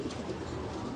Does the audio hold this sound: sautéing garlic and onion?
no